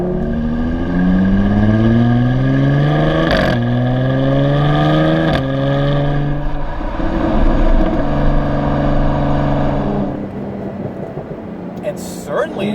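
A Jaguar F-Type sports car with a paddle-shift automatic accelerates hard, engine pitch climbing through gears with quick shift breaks, loud and close, someone talking over the rising engine note.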